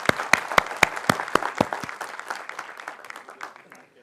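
An audience at an Atomy India felicitation event claps: a few sharp, distinct hand claps quickly thicken into dense applause that fades over a few seconds.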